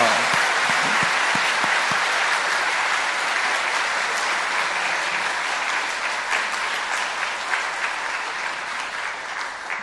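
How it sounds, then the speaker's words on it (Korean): A church congregation at a Sunday evening service applauds their pastor, a dense, steady wash of many hands clapping that fills the room and tapers off slightly toward the end. "박수 한번 할까요, 목사님한테?"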